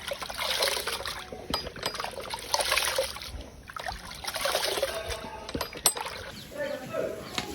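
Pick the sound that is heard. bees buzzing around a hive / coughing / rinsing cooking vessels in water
rinsing cooking vessels in water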